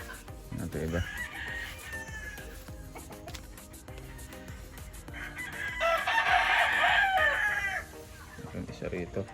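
Roosters crow and hens cluck at a gamefowl farm. One crow rings out loudly near the middle, with softer calls around it and someone talking intermittently.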